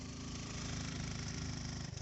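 A motorcycle engine runs on a hilly road in Bandarban, a close, steady throbbing drone that dips briefly at the end.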